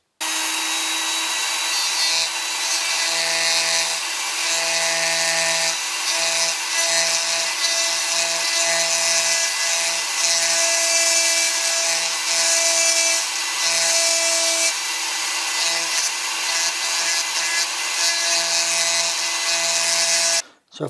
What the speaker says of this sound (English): I'm going to use my little Dremel for that, with a little carbide burr on